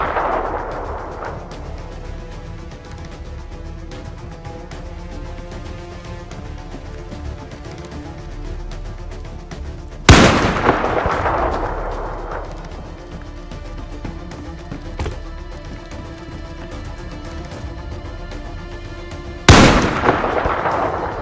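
Heavy gunshots in DayZ, two loud separate blasts about ten seconds apart, each with a long echoing decay over low steady background noise.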